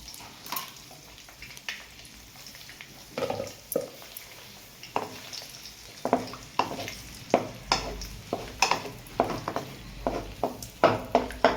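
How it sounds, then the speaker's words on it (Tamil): Beaten eggs fry in a pan for homemade chicken fried rice while a spatula scrapes and stirs them in a steady, quickening rhythm of sharp strokes over a low, constant sizzle. "ரெண்டு முட்டையை உடச்சி ஊற்றிட்டு நல்லா கிளறி விடணும்"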